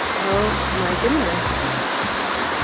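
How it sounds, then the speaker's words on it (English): Lye Brook Falls, a waterfall in Manchester, Vermont, gives a steady broadband roar of falling water heard from nearby through the woods, with a person briefly exclaiming over it. "do you guys hear that sound of water?"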